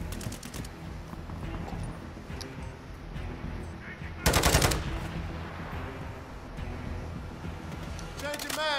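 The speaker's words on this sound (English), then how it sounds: "Sentry gun deployed." Automated sentry gun opening fire in Call of Duty Modern Warfare II, a short loud burst of rapid gunfire rising out of steady game ambience and background chatter.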